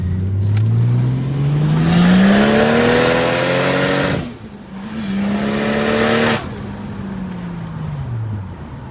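A Ford Fairlane engine with upgraded valve springs and turned-up boost revs loudly while driving, rising and falling in pitch through gear changes as it accelerates, with a brief drop between pulls and a steady drone throughout.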